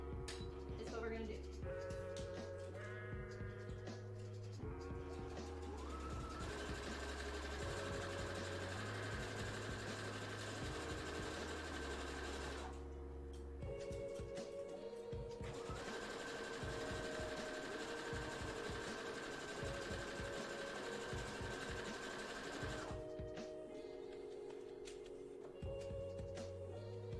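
A sewing machine stitches cosplay fabric in long continuous runs, its rapid mechanical hum stopping briefly and then starting again, with a voice talking quietly in the background.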